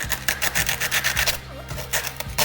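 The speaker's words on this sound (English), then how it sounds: "I'm going to get down inside these cracks and just hit it with some sandpaper really quick" Sandpaper is rubbed by hand into cracks on a C4 Corvette door panel, making quick, rhythmic back-and-forth scratchy strokes, close up and steady, with no talking.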